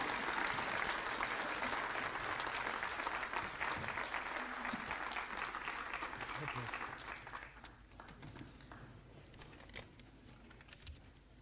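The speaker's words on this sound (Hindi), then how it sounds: "और अब जोरदार तालियां और खड़े होकर स्वागत करेंगे" An audience at a political party gathering celebrating municipal election winners welcomes the Delhi chief minister with loud sustained clapping that fades out after several seconds, with voices talking through it.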